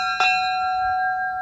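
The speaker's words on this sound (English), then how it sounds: "they have extended the reach of the bell, so now you can ring it" A train bell at a transportation museum struck once, loud and close, with a clear ringing tone that sustains and slowly fades.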